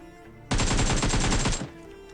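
Rapid automatic gunfire in the mobile battle royale game PUBG Mobile, a loud, close, unbroken burst of about a second of evenly spaced shots that stops abruptly.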